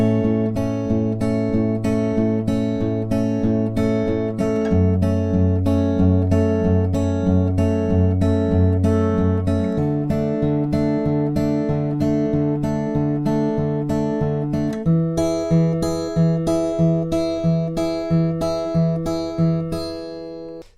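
Acoustic guitar fingerpicking the second verse of a song, steady repeated picking patterns over shifting chords, evenly paced and close, played alone without talking for about twenty seconds.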